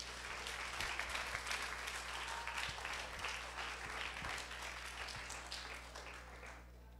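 Church audience at a youth preaching contest applauds a contestant, a faint, distant wash of steady clapping lasting several seconds and tapering slightly at the end.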